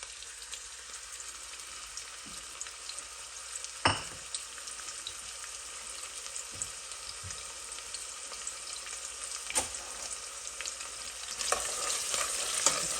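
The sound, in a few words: chopped onion frying in oil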